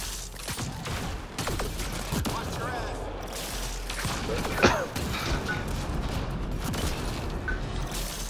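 Gunfire in an Apex mission game, a dense fusillade of shots with one sharper crack midway, steady under a layer of game chatter and voices.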